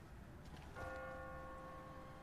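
Automatic church bell in The Walking Dead video game, a faint ringing tone that starts suddenly and holds a sustained, even hum with clear overtones, heard alone in the distance.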